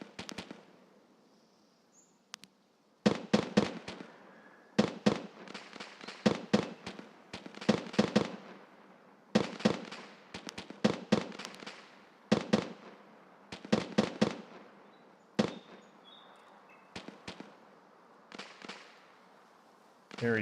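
Grenade explosions in the online shooter Escape from Tarkov come as a rapid string of sharp, distant bursts in irregular clusters over about twenty seconds, fairly faint against a quiet background.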